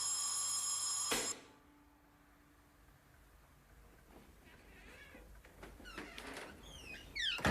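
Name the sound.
electric doorbell ringing in a film scene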